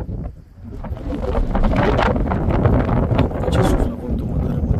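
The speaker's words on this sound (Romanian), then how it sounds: "Ce suflă vântul" Strong wind gusts roar and buffet the microphone continuously on a high point in Nafplion, Greece, a loud rushing noise with low rumble throughout.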